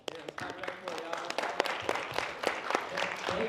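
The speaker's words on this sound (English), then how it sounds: "let's clap it up for it, y'all" An audience at an industry talk event breaks into applause, a dense burst of hand claps with a few whoops, close and lively, while a voice speaks over it.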